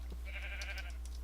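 A sheep on a hiking trail gives a single wavering bleat that lasts about half a second. It is moderately clear over steady low outdoor hum and faint background noise.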